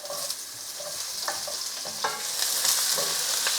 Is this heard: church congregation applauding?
no